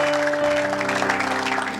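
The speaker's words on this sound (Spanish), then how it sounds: "Aplauda para el Señor si quiere, por favor." A church congregation at a men's conference gives a brief burst of applause over sustained keyboard chords.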